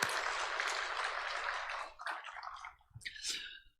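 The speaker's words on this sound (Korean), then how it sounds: "우리 찬양 받으신 주님께 영광의 박수 올립시다." Congregation applause at a Sunday church service, a dense crackling burst for about two seconds, then thinning into scattered claps and light clatter as it fades out.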